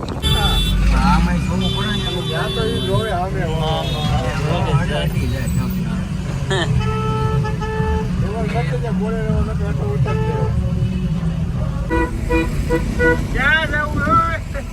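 Busy road traffic near a CNG filling stop on the way to Gondal, with buses passing and repeated car and bus horns honking over a constant engine rumble while people talk nearby.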